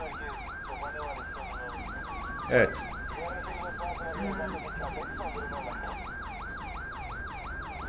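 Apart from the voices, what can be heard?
Police car siren in video game GTA 5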